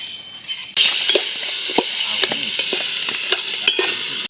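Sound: rice frying with lentils for khichuri

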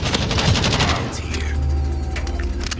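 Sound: machine gun fire in a video game

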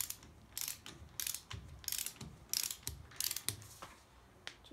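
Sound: torquing down front axle flange with ratchet

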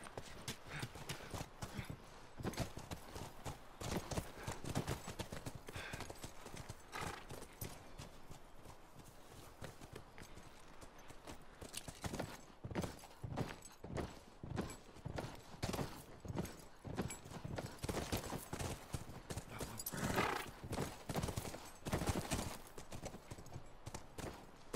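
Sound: horse hooves clip-clopping in The Last of Us video game

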